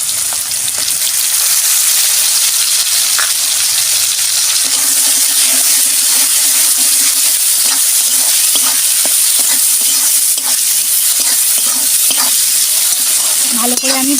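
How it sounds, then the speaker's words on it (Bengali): Onion and chopped tomato with whole coriander sizzle loudly in hot oil, a constant frying hiss with occasional stirring scrapes throughout. "ভালো করে আমি ভাজবো।"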